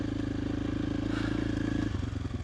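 A KTM 500 EXC-F dirt bike engine on a mountain trail thrums steadily at a low, even idle-to-cruise pitch, close and continuous, with light clattering over the rhythmic putter.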